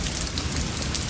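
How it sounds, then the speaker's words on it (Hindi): Heavy rain pours down in a steady, dense hiss with no voices, loud and close throughout. "लेकिन पिताजी, इतनी तेज बारिश में हम खेत का काम कैसे करेंगे?"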